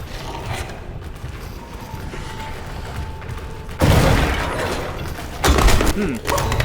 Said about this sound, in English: I think I just triggered a tripwire grenade right next to me.